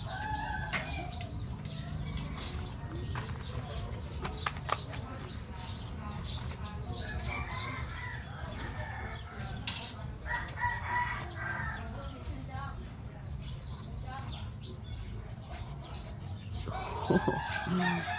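Chickens clucking and a rooster crowing, with birdsong and wing flaps mixed into a steady, busy outdoor background of fairly constant loudness and no clear pause.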